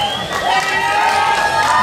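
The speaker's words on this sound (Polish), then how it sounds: "brawa, brawa dla Pauliny!" A crowd cheering and shouting at a fencing match, loud and continuous, with tonal whoops and whistles over a dense roar of voices.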